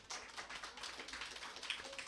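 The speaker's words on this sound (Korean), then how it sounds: "박수 한번 보내줘요." Light scattered clapping from a small group of children at an elementary church service, quick uneven claps at a moderate distance, fairly faint.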